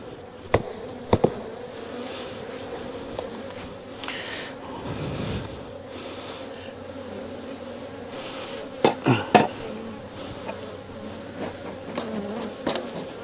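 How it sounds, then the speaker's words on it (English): Bees hum around an open hive box during a split using double screen boards, a low steady drone running throughout, broken by a few sharp knocks and clacks of equipment. "Just drive those bees down a little bit so I can clean this off"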